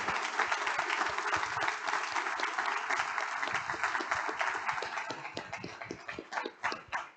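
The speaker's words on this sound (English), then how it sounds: "let's give our panelists another round of applause" Audience at a history lecture panel on Katrina archives gives the panelists a sustained round of applause, dense clapping filling the room and thinning into scattered individual claps near the end.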